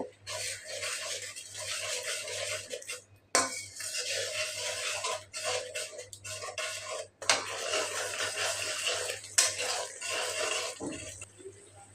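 Spice paste with chili, cumin and salt scrapes and rasps in a pan as it is stirred and fried for a rohu fish curry with pointed gourd, in steady strokes broken by brief pauses and clinks.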